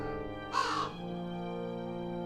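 A crow gives a single loud, harsh caw near a hovering DJI Mavic Air drone, whose steady tonal whine continues underneath before and after the call.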